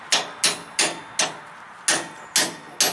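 A sledgehammer strikes a socket to drive an axle seal into a 1990 Ford Ranger axle: seven loud, sharp metallic blows at an even pace, close up, with no talking.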